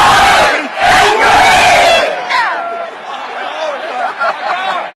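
A large home soccer crowd in Seattle chants in loud, roaring rhythmic bursts at an MLS playoff match, with the noise swelling and dipping before cutting off.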